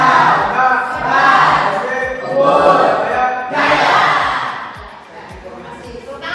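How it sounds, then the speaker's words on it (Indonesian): Vocational high school students in a classroom shout a school cheer together in loud rhythmic bursts, backed by steady low thumps of stamping or clapping that keep the beat. "Silakan siapa yang mau memimpin yel-yel SMK kita?"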